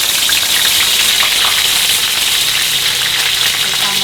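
Chili sambal fries in hot oil, giving a loud, continuous, crackling sizzle that stays close and steady throughout with no one speaking.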